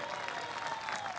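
A church congregation claps together in a steady, dense patter of applause that fills the whole moment, with a faint crowd murmur beneath it.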